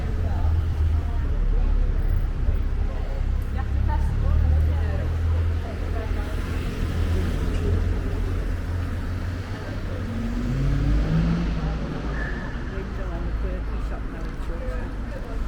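Steady stream of town road traffic rolling past on a street in Shrewsbury, UK, a continuous low rumble of engines and tyres at close to moderate distance, with occasional voices in the background.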